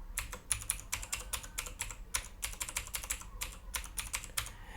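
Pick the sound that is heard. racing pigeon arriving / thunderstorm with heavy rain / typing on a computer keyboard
typing on a computer keyboard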